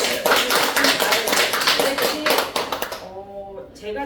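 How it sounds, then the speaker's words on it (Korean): Audience members clap together in a brisk, dense burst that cuts off after about three seconds, followed by a person speaking. "박수."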